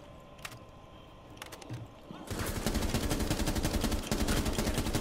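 Gunfire in Rainbow Six Siege: a few sparse shots, then a sustained burst of rapid automatic fire close by and loud to the end.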